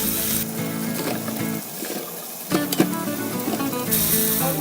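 Tap water splashes and gushes over apple scraps in a bowl or strainer, a loud continuous rinse with intermittent splashy bursts.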